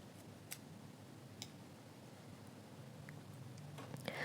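Scissors snip crochet yarn tails in a few faint, sparse clicks, close but very quiet against a soft background hush.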